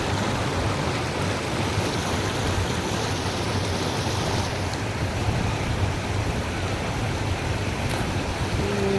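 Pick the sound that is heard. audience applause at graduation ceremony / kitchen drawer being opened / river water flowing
river water flowing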